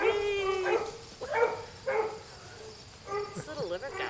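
Young Vizsla and German Shorthaired puppies yip and whimper in a few short high-pitched bursts over steady background noise, fairly close, with no clear talking.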